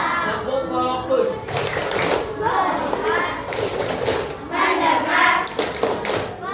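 Schoolchildren in a classroom do a focus clapping routine, with rhythmic bursts of group claps and taps mixed with their loud chanting voices.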